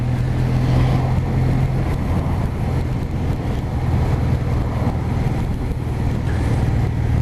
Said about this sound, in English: Get a nice rumble under your feet of the engine.